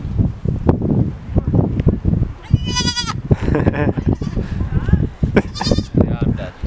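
Young goats on a goat farm give two high, wavering bleats a few seconds apart, under and between people talking nearby amid outdoor rustling.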